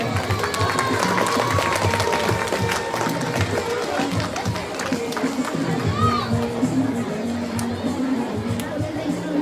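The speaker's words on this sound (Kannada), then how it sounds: "ಜೋರಾದ ಚಪ್ಪಾಳೆ." Loud, sustained applause from a crowd at a school event, continuous dense clapping mixed with crowd chatter and babble throughout.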